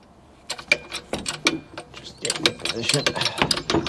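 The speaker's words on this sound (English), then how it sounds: "I'm using my small jack for this." A small car jack is cranked under a Ford Focus MK1 during steering rack work, giving clicking, ratcheting metallic strokes in an uneven rhythm, close by, with someone talking over parts of it.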